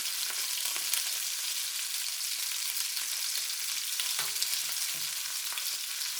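Cashew shrimp stir fry sizzling steadily in a pan over medium heat, a close, continuous crackling hiss with no voices.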